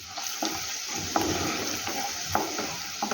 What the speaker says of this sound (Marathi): आता हे छान असे आपण फ्राय करून घेऊया लसणाचा छान असा सुगंध इथे येत आहे